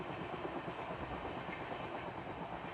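A Humsafar Express train rolls along the rails near Kurukshetra Junction, a dense, steady roar with rhythmic wheel clatter heard from onboard, continuous and fairly close.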